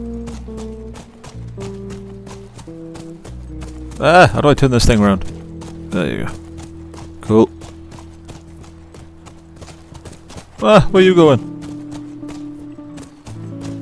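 Horse hooves clop in a steady trot in the video game The Last of Us, with a few louder bursts of game sound and someone talking over them.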